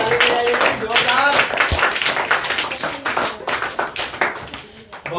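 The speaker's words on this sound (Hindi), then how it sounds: "अच्छे से ताली बजाइए, जोरदार।" Classroom of students clapping hands loudly together, sharp uneven claps in bursts that gradually thin out, with children's voices mixed in.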